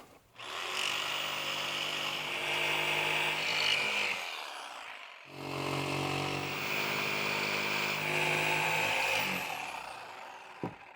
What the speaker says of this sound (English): the DJI did a great job with the quarter jigsaw